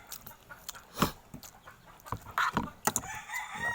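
A hen cackles near a small village store, giving a run of sharp, uneven clucks and squawks at close range with no one talking.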